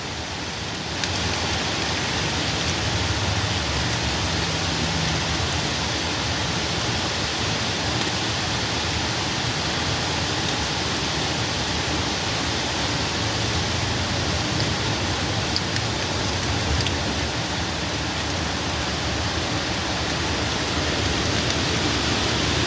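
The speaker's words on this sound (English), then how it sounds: "Well, there's the heavy rain." Heavy rain pours down during a thunderstorm, a loud, dense and unbroken hiss of drops on surfaces that holds steady throughout with no voices.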